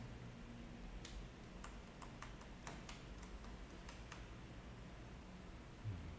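Quiet, close computer-keyboard typing as a URL is entered, a short irregular run of light key clicks over a low background hiss.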